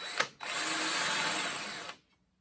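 A power drill bores quickly through material on a riding mower being converted, a short burst then a steady loud whine of about one and a half seconds that cuts off abruptly, with no talking.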